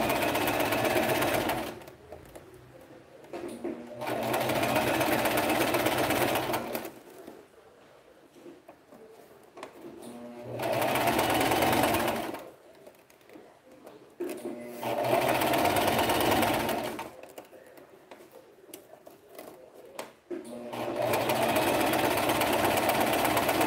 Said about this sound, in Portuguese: E agora eu vou costurar normal, costurinha reta.